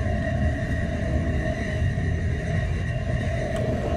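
A train in the video game The Final Station rumbles steadily throughout, a dense low drone with a faint mechanical whine above it, continuous and close with no talk.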